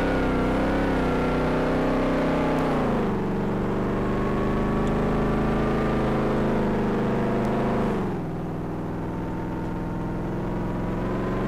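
A car in DayZ drives across a field, its engine droning loud and close with a steady tone that dips twice as the revs drop and rise again.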